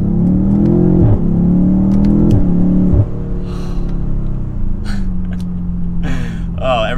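A 2022 BMW M8 Competition Gran Coupe accelerating hard, its engine droning loud and rising through rapid gear changes, then easing to a lower hum as a person reacts with gasps.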